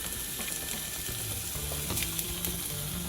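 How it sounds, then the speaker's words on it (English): Meat sizzles and fries loudly in a buttered skillet, a constant crackling hiss with small pops and a bit of stirring, close up and without talk. "You may or may not be able to hear the sizzle."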